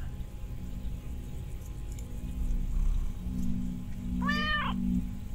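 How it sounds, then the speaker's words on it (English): In the game Abscission, a cat lets out a single rising-and-falling meow when petted near the end, clear and close over a low ambient hum and faint rustling. "Aww, you pet the little kitty."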